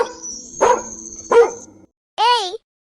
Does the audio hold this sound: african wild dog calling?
yes